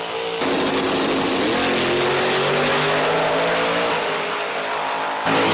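Drag race cars, including the Blackjack Mustang, launching down the strip at Virginia Motorsports Park during an Outlaws event: a loud, continuous engine roar that climbs in pitch as they pull away, then cuts off sharply at the end.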